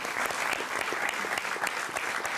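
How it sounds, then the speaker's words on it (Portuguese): Brisk audience applause greets an accordion player on a live music program. Dense, even clapping carries through the whole short span, close and moderately loud, with no voices. "Salva de palmas para o Fábio"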